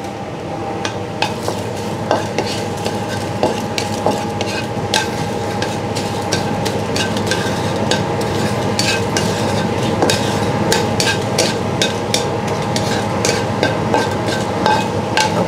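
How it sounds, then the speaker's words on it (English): Dry chilies roasting in a pan while being stirred, with steady repeated scraping and tapping of a utensil on the pan over a constant low sizzle, close and loud throughout. "And then we roast dry chili."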